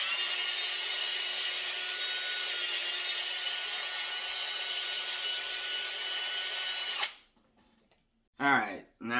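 Wet sanding a plastic headlight lens with sandpaper during a headlight renewal gives a steady, loud, even rasping scrub for about seven seconds, then stops, with brief movement noises after.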